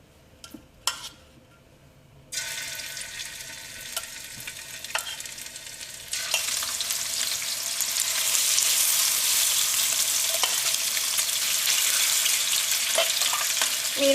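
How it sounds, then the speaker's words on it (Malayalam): Fish fries in hot coconut or vegetable oil for a Kerala fish pickle, a dense steady sizzle that starts abruptly and grows louder and fuller, with a few clinks before it begins. "ഇനി നമുക്ക് മീൻ വറുത്തെടുക്കാം. മീൻ വറുത്തെടുക്കാനുള്ള എണ്ണ നന്നായിട്ട് ചൂടായിട്ടുണ്ട്."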